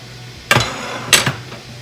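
Two sharp metallic clinks of canning lids and rings knocked with a small metal lid catcher, spaced about half a second apart, close and bright in an otherwise quiet kitchen.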